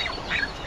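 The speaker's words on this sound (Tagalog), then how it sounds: "Dito po namin nilagay yung mga sisiw ng pato" Ducklings kept in a backyard poultry area, out in the open for the first time, give a short burst of soft quacking calls, close and alone without talk.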